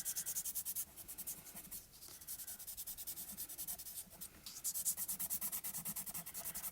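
Rapid scratchy strokes of a pastel chalk pencil rub across paper in quick rhythmic bursts, close and continuous, with a few short pauses.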